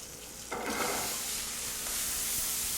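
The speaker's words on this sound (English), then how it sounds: "So bacon rendering out." Bacon rendering its fat in a pan, a bright steady sizzle that flares up suddenly and then keeps crackling continuously, close and loud with no talking.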